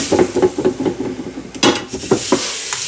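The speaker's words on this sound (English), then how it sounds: "I go ahead and give that a stir" Roux stirred in a pot for homemade chicken and dumplings, a spoon scraping in steady rhythmic strokes against the pot bottom, close and fairly loud, with a faint sizzle underneath.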